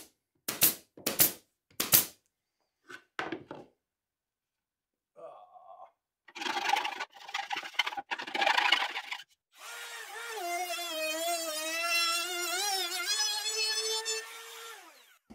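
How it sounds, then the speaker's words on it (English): A plywood horn flare is cut with a router fitted with a 45-degree ball-bearing bit. Loud tool bursts start and stop, then a sustained whining cut runs near the end. "I could do most of the flare with a 45 degree bit that has a ball bearing on the end that rides around that 1¼-inch hole"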